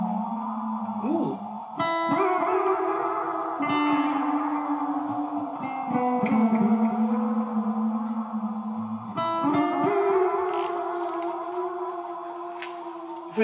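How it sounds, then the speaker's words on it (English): Champion Leccy Woozy lo-fi modulated tape delay pedal sends a guitar-like tone into washy, reverberant echo repeats with a bright shimmer and wobbling modulation, sustained and fairly loud throughout. "The backwash here is the echo repeats and a shimmer."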